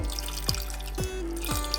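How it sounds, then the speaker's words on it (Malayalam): Water poured onto jaggery in a pan to make syrup gives a close, continuous liquid splash and trickle with a few gurgling bursts. "ഒരു തുണ്ട് വെള്ളം ഒഴിച്ചിട്ടാണ് ഞാനിതൊന്ന് ശർക്കര പാനി ആക്കി എടുക്കുന്നത്"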